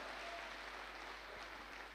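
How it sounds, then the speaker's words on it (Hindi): Audience applause for an honoree at a speech event, a faint, even, continuous wash of distant clapping with no breaks. "एक जोरदार ताली गोपाल जी के लिए।"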